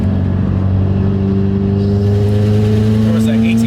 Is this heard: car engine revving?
yes